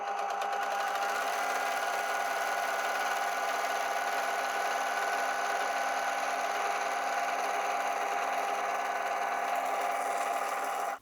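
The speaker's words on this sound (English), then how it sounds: "I'm going to go ahead and sew that along this edge" An overlocker serger sewing a rolled hem along the edge of scrap fabric, running as a steady, continuous mechanical hum with fast rhythmic stitching, close and unbroken for the whole stretch.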